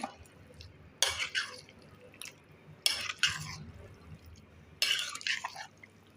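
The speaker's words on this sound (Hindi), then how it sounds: "जो दही मैंने आपको बताई थी वो इस पर ऐड कर देंगे। इसको हम मिक्स कर देंगे" Yogurt being spooned onto a chana chaat and mixed in, producing three short bursts of wet stirring and scraping against the dish between quiet gaps, close and fairly soft, with no talking.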